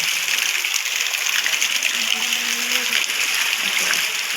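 After a heavy village downpour, rainwater pours and gushes along like a little river, a constant, fairly loud rushing wash with no pauses.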